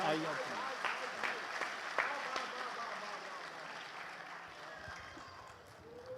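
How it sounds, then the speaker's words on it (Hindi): Applause from the audience at a Hindi kavi sammelan poetry gathering, a broad wash of clapping that carries steadily through the whole stretch, with talk over it. "एक बार हाथ उठाकर जोरदार तालियां बजा दीजिए"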